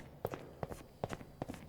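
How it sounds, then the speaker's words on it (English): Footsteps in the Backrooms video game POOLS, four evenly spaced, soft double-thudding steps at a steady walking pace, faint and alone. "Thought I heard footsteps aside from my own."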